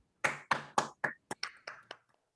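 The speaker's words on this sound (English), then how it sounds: "Can we have a loud round of applause for Ravindra," Applause for Ravindra during an online session comes as about eight distinct, sharp claps in a quick, slightly uneven rhythm, close and alone, then silence.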